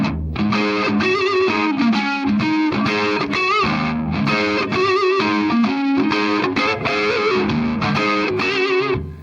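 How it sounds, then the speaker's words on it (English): Electric guitar driven through an overdrive pedal in a bluesy style, with thick, saturated chords and single notes. It plays loud and continuous, with no talking over it. "It's more of an overdrive pedal."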